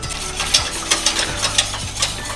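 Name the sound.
stirring mango cheesecake filling mixture in a pan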